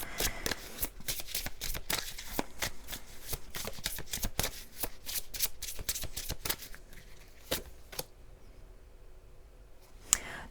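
Oracle cards are shuffled by hand for a tarot reading, giving a long run of crisp, rapid riffling clicks that keep up a steady rhythm close by, then slow to a few sharper snaps near the end, with no talking.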